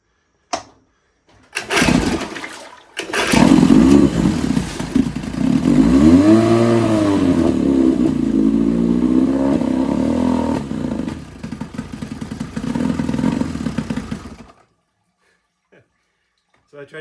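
A 1969 Johnson 9.5 hp outboard motor runs steadily up close, its pitch rising and falling as it is revved, for about twelve seconds before cutting off into near silence.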